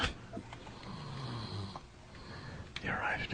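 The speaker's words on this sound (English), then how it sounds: "the snoring's getting better" A man snores softly and quietly, with low rasping breaths in a hushed room and a faint breathy rustle near the end.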